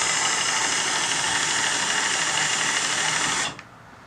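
A Razor Delta Drive powering semi trailer landing legs in high gear, a loud steady electric motor whine that runs evenly and then cuts off abruptly near the end.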